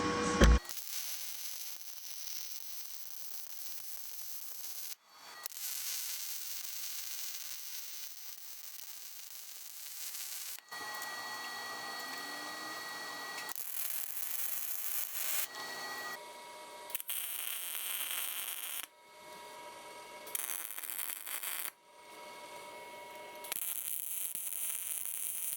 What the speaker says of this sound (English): Time to fire up the welder.